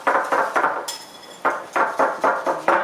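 Salad dressing seasoned with Lawry's and black pepper, mixed in a bowl: rapid, rhythmic scraping strokes, close and loud, in two quick runs separated by a brief pause.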